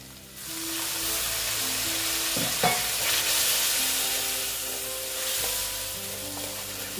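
Water poured into frying masala for an egg and potato curry, followed by stirring. A steady hissing sizzle runs throughout, with a few spoon scrapes and clanks against the pan, close by.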